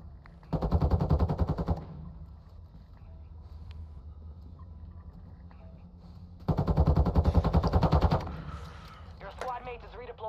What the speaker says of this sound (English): I don't know who they're firing at, but it sounds pretty close.